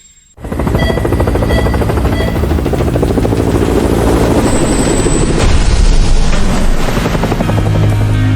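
A military helicopter roars loud and close, with a dense, steady rotor and engine drone that starts abruptly and holds at full strength throughout.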